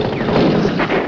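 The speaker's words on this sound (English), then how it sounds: "at least 30 VC open fire from the village ahead." Heavy gunfire from about thirty Viet Cong firing out of a village in the Vietnam War, a loud, dense, continuous burst of overlapping shots with no voices.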